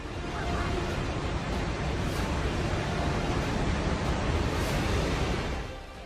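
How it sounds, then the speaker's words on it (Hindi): Floodwater surges in a flash flood in Nepal's Rasuwa area, a loud, steady broadband roar of rushing waves that holds constant for about six seconds with no break. "देखिए पानी की कितनी ऊंची लहरें हैं।"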